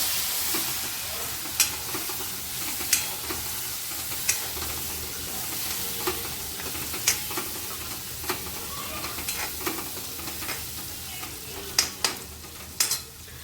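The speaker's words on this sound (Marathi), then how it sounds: "त्यानंतर त्यात टमॅटो ॲड केला याला छान मिक्स करून घ्यायचं" Tomato is stir-fried with turmeric in a pan, a continuous sizzle broken by regular sharp spatula clacks and scrapes as it is mixed.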